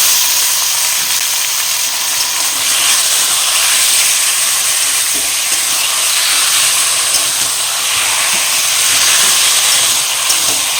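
Taro greens hit hot spiced oil in a pan and give a loud, steady sizzle that goes on without a break. No voices are heard.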